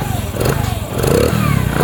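A Honda XRM125fi motorcycle engine runs close by with a loud, steady, rapid chugging pulse and a slight rise in intensity partway through, its air cleaner noisy.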